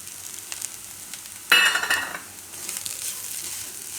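Grated coconut roasting with sesame seeds in a pan for coconut pulao. A low sizzle runs throughout, with a sharp burst of crackling and sputter as the seeds hit the hot pan, easing back to gentle frying with light stirring.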